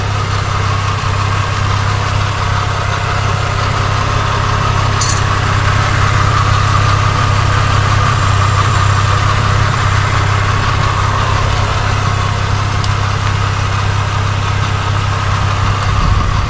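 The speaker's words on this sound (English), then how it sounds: "Engine's running." A Nissan 350Z engine idles steadily after an oil cooler install, a loud, constant low rumble with a faint higher hum that holds unchanged throughout, close by and with no talking.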